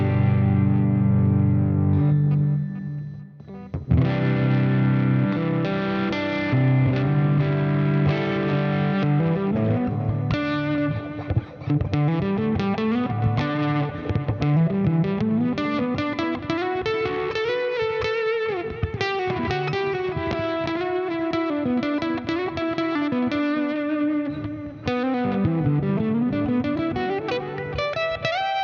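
Jackson PC-1 electric guitar with a sustainer and HS2 pickup playing distorted tone demos: heavy chords at first, then long sustained lead notes and sliding melodic lines, loud and close throughout with no talking.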